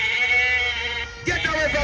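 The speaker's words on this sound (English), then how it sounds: "Run, the goat coming!" A goat bleats loudly and close by at an outdoor school sports day race, one long wavering call followed by another, with children and adults shouting around it.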